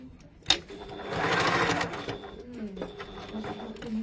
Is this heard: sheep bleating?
no